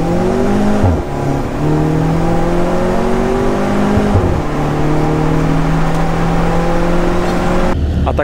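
Alfa Romeo 4C Spider sports car being driven out of a transporter trailer, its engine loud and close with steady revving that rises and falls in pitch over several seconds.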